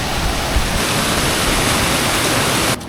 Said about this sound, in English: My second waterfall.